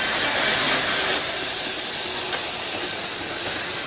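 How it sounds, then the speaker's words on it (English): A model train runs on a rail club layout, giving a steady, close hiss and rattle of wheels on track that holds at an even level with light clicks and no talk. "that train won't ever stop."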